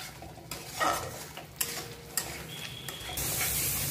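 A spiced masala with salt and turmeric is stirred and sautéed in oil in a pan for a chicken curry, with scraping spoon strokes and clinks over a soft sizzle that swells to a steady fry near the end.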